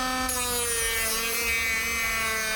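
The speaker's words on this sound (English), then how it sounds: "Let's see if we can sand it." Sanding by hand on a plumbing part aboard an old yacht, a steady continuous abrasive rasping close by that runs through the whole stretch without pause and with no talk.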